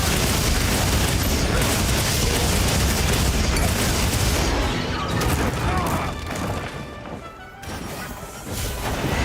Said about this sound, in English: I'm about to flashbang you